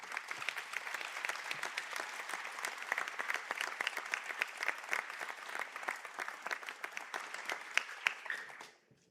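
Sustained applause from a large audience at a college conferring ceremony in Sligo, honouring Biopharmaceutical Science graduates; dense steady clapping fills the hall and fades out at the very end.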